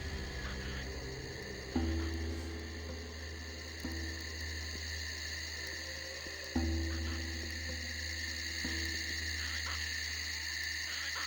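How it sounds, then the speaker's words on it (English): Loud, constant insect chirring of crickets in the Gothic II video game, a shrill steady drone filling the scene, with occasional low thumps and a deep background hum. "there's some loud crickets"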